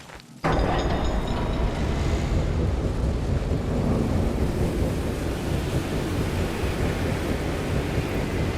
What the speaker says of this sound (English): Your feeble body cannot overpower such tremendous gusts!